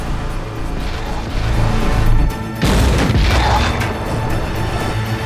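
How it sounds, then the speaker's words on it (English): Simulated T-34 tank cannon shot made for film effects: a loud, heavy boom bursts out mid-clip and rolls into a rumbling, crackling tail over a dense background. "Tank shots are effect simulation."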